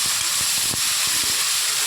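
Tomato, curry leaves and onion sizzle in hot oil in a pan, making a loud, steady hiss with faint stirring clicks underneath, close up and without speech.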